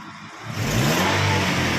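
A car engine revs up from a low idle into a loud, sustained rising roar that holds steady near the microphone, with no voices.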